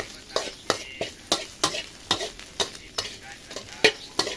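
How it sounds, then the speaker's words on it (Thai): Fish sauce sizzles at the edge of a hot pan during a Thai hill-style stir-fry, with frequent sharp scraping stirs every half second or so over a steady hiss, close and alone with no talk. "น้ำปลาสอเราจะชอบ โรยขอบกระทะ นะคะ โรยขอบกระทะ ให้มันหอม"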